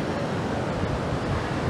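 Surf washes onto the beach at Morro de Gos in Oropesa del Mar, a steady broadband roar of breaking waves with some wind rumble, loud and unbroken, with no talking.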